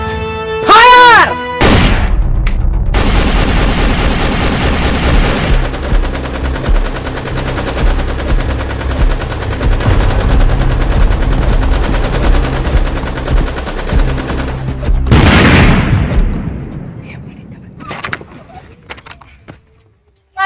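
Sustained automatic gunfire in a war film battle scene, dense rapid bursts of shots for about thirteen seconds after an opening crack, then a loud blast that fades into a tail, with faint voices.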